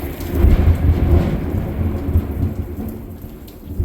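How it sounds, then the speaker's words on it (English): Heavy rain pouring down outdoors on muddy ground, a dense, loud, continuous hiss layered over deep rumbling thunder, with no voices. "It's too much rain. Oh, it's getting so muddy."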